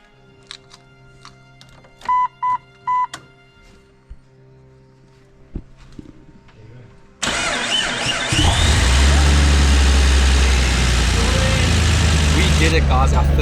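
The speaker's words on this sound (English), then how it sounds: "We did it, guys, our first rebuilt engine, and it sounds great." Rebuilt Jeep TJ 4.0 inline-six catches after a few brief starter attempts, then settles into a loud, steady idle that rumbles close by.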